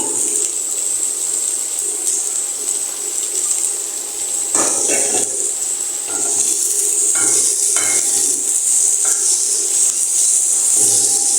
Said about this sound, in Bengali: পেঁয়াজ আর রসুনটা একটু ভাজা হলে তারপর আমি শুটকিটা দিয়ে দেব।